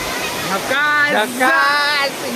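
Rushing water from the Muktai waterfall forms a steady broadband roar throughout, with people's voices talking over it in the middle.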